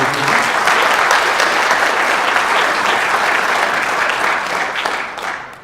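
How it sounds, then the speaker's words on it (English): Loud, sustained applause from the audience at a county sheriff candidate forum honors the hosting fiscal conservative group, a thick wash of clapping that tapers off toward the end. "Big round of applause, ladies and gentlemen, for Fiscal Conservatives Hamilton County for hosting this event"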